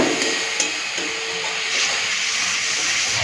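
Spice paste with ground turmeric frying in a hot pan for a Bengali fish curry, a loud continuous sizzling hiss up close with a few faint clinks.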